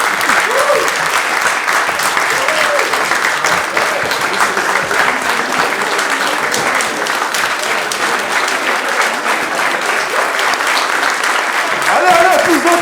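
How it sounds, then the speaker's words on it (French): Sustained audience applause fills a speech-contest final held in the French Senate, a dense steady wash of many hands clapping with some crowd noise, loud throughout and swelling again near the end. "levez-vous et applaudissez-les,"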